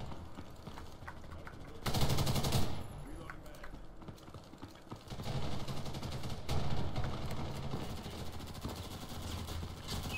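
Gunfire in the video game Ghost in the Shell First Assault, with rapid bursts and scattered shots at varying distances and a loud burst near the start, under a soft background of game noise and occasional voice.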